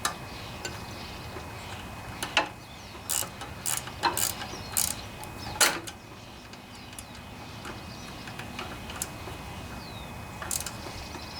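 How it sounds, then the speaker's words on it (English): Ratchet tightening a carburetor bolt on a Briggs and Stratton engine of a power trim edger, a few short bursts of clicking, fairly faint against a steady background hiss. "So I'll tighten the carburetor down before I tighten that bottom bolt down."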